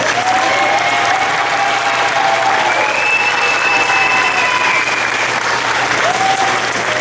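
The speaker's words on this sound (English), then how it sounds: "I invite you once again to turn and applaud these people" Sustained applause from a large crowd at a college commencement ceremony, steady and dense clapping throughout, with faint tonal sounds over it.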